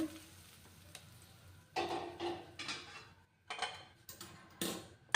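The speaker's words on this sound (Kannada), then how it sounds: "ನೋಡ್ರಿ ಬಿಸಿ ಎಣ್ಣೆ, ಇಷ್ಟು ಎಣ್ಣೆ ಹಾಕೋಣ" Hot oil is poured into a semolina and potato dough for vada, and it gives several bursts of close, soft sizzling and crackling separated by brief quiet gaps, with no speech.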